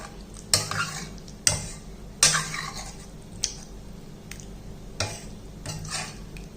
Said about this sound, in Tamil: எல்லாத்தையும் நல்லா மிக்ஸ் பண்ணிக்குவோம். உருளைக்கிழங்க நல்லா மசிச்சு விட்டுருவோம்